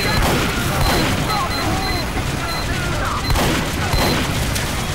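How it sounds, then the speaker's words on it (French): A bazooka blast destroys a turret in the video game Team Fortress 2, amid loud continuous gunfire and explosive booms, with beeping tones pulsing over the dense, harsh battle noise. "Il a un bazooka et il a détruit la tourelle."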